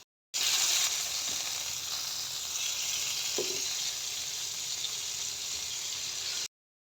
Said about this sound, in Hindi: फ्राई करना है इसको अच्छे तरीके से इसी ऑयल में।